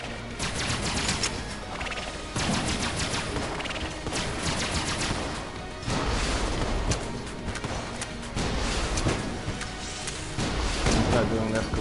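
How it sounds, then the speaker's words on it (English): Continuous dense gunfire and booming explosions from the video game Enter the Gungeon, loud and relentless with rapid bursts throughout, and a louder blast partway through. "he shoots that rocket at the wall, and then big explosion"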